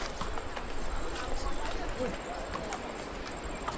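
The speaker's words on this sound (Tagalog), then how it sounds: "Ayan, may kabayo kaming kasalubong." Horse hooves clip-clopping on a road near a river on an outdoor trip, a quick irregular rhythm of hoof strikes passing close amid steady background noise, with people talking over it.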